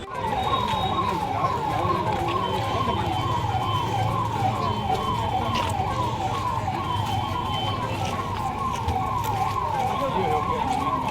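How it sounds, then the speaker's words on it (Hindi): A loud siren at a fire mock drill wails continuously with a fast, repeating rise-and-fall yelp, steady and close throughout with a low rumble beneath. "हम एक सायरन भी बजाएंगे"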